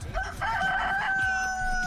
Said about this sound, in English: That was a loud ass chicken behind me.